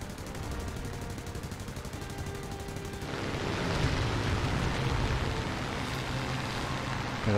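Rapid, continuous gunfire from War Thunder, a World War II aircraft combat game with British planes, rattles on throughout and grows denser and louder halfway through, with no talk.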